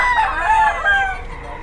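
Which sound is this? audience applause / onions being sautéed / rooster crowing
rooster crowing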